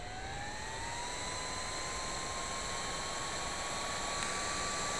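A steady, loud whirring hum with a rising high-pitched whine that settles into a constant tone, a Jiso mini fan spinning at full speed.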